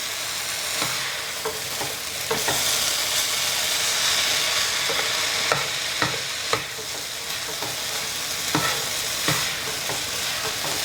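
Pork fried rice is stirred and tossed in a hot pan, making a loud continuous sizzle and hiss with repeated scraping clacks of the utensil against the pan. No one speaks.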